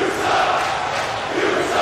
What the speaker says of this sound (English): I don't even know who the crowd is chanting for at this point.